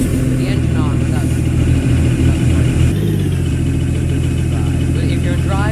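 A bus engine idles in a Roblox bus driving game, a steady mid-pitched drone running throughout while a voice talks over it.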